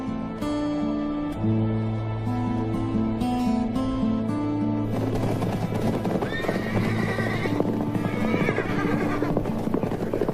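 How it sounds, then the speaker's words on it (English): Horses rest in the shade in the world's oldest desert, with loud, steady hoof clip-clops and several whinnies heard over continuous music-like background tones. "they leave the horses in the shade."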